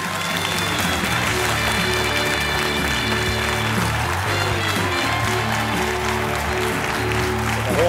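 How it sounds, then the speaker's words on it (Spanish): Audience applause in a TV studio, a steady dense wash of clapping that lasts the whole stretch, with music playing underneath. "Un fuerte aplauso, por favor."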